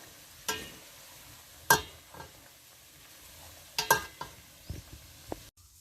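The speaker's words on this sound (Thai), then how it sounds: "เคี่ยวไปเรื่อยๆนะคะ คนพยายามคนบ่อยๆจะได้ไม่ไหม้นะคะ" Sliced plai simmers in coconut oil in a pot, with a soft steady sizzle and several sharp scrapes and clinks of a utensil stirring, fairly quiet and with no talking.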